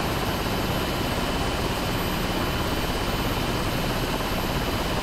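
A simulated Rotorway RW162F helicopter in flight in Microsoft Flight Simulator gives off a steady, loud, dense rotor and engine roar that holds without change throughout, with no voices.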